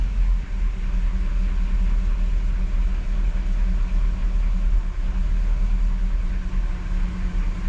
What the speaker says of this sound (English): So I just start the engine without touching the accelerator and let it idle until the oil pressure